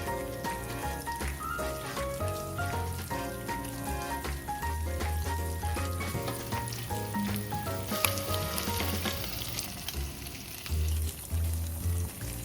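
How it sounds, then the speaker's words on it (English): Meatballs fry in cooking oil in a pan, giving a steady sizzle under louder background music that plays throughout. "gently place the meatballs in a nice pan and start cooking the meatballs"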